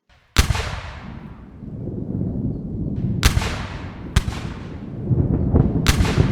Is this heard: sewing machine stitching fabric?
no